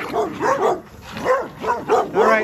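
Neighborhood dogs in Bunnell, Florida barking close by, a rapid series of five or six loud, sharp barks in a roughly even rhythm over two seconds.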